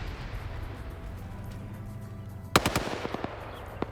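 Gunfire at a Humvee gunner in an online multiplayer shooter match: quiet rumble at first, then a sudden burst of sharp rapid shots followed by scattered single cracks, fairly close and unmasked by talk.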